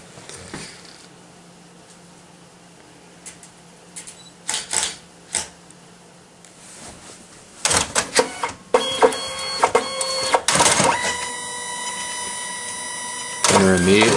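A photo booth printer starts up and prints, giving bursts of mechanical whirring and feeding noise that build from about eight seconds to the end, after quieter scattered clicks and taps.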